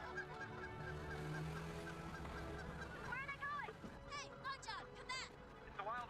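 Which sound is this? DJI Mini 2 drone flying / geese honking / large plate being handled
geese honking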